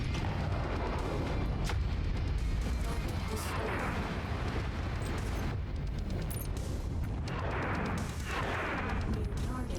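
A gigantic missile launcher firing in MechWarrior 5, heavy booming salvos and crashing impacts rolling through dense battle noise, with several sharper bursts standing out over a steady rumble.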